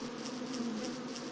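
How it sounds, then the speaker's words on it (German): Swarm of bees buzzing in the video game Save The Doge, a steady droning hum with a faint pulsing flutter, continuous and fairly close, with no voices. "Wenn ich die Bienen selbst einbaue."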